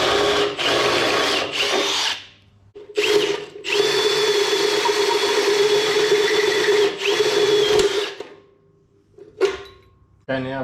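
A power drill with a hole saw cuts through the chassis of a GU 4x4 in several bursts: a short whine, a pause, then a long steady grinding run before stopping, with shorter spurts near the end.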